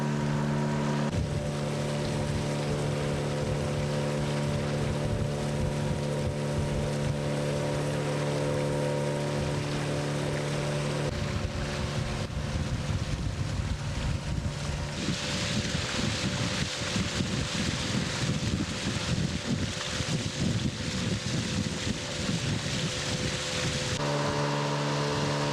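A motorized pirogue travels up the Rio de la Pasión, its outboard motor droning steadily throughout, with water rushing and wind noise swelling in the middle stretch.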